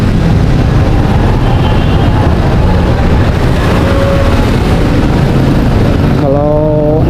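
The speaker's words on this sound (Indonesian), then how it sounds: "Ya beginilah di Jakarta naik motor dalam menembus kemacetan." Suzuki New Shogun SP motorcycle ridden through congested Jakarta traffic, its engine a steady loud rumble mixed with dense road noise and surrounding vehicles throughout, with a brief horn-like tone near the end.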